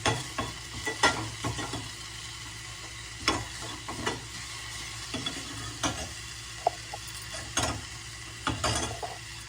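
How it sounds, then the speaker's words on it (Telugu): Onions and chillies frying with salt in a pan for a vegetable soup, a steady sizzle under repeated scraping stir strokes and clinks of the spoon at irregular intervals, close by with no talk. "ఈ ఉల్లిగడ్డలు మిరపకాయలు ఇవన్నీ ఫ్రై కావడానికి కోసం ఇట్లా వేస్తున్నాను"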